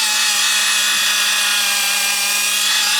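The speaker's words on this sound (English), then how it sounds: "now cut these freaking brake lines out" A power tool cuts out old brake lines on a Honda K-series car, a loud, continuous high-pitched grinding whir close up that holds steady throughout.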